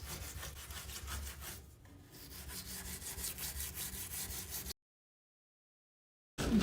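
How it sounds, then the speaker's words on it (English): Cleaning paste is scrubbed into the jets of a MAAX jetted tub in fast, rhythmic back-and-forth strokes, close and raspy, then it cuts off into silence before resuming briefly. "you'll scrub each of the different jets"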